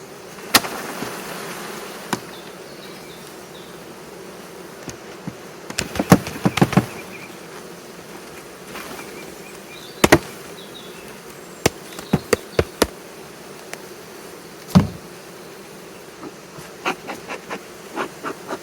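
Honeybees buzzing around a hive frame during swarm-catching work at an apiary, a steady low drone of many bees close by, punctuated by sharp knocks and clacks of wooden hive parts.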